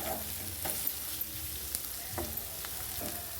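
Potato vegetable frying in a pan, stirred now and then, with a steady soft sizzle broken by a few short scraping strokes, close and fairly quiet, no talking.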